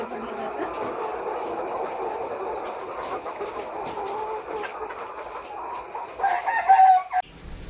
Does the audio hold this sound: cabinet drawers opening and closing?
no